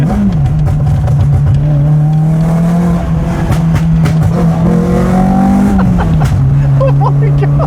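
A restored project car, rebuilt from scrap, pulls hard in second gear. Its engine note climbs steadily, dips at a shift near the end, then keeps rising. The sound is loud and close, with voices faintly under the engine.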